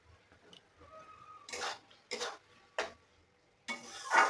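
Spice paste is stirred in a pan with a utensil. A few distinct scraping strokes sound close and fairly loud, separated by quiet gaps, over a faint sizzle.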